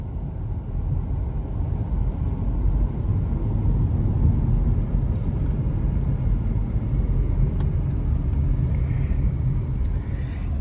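A 2025 Nissan Leaf electric car cruising smoothly, giving a low, steady rumble of road and tyre noise from inside the cabin, continuous and moderately loud with a few faint clicks near the end.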